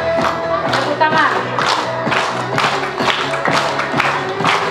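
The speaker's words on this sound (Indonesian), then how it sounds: "Tepuk tangan." A congregation at an Easter service of the Toraja church in Rantelemo claps in quick rhythmic bursts over lively music, with crowd noise and voices mixed in.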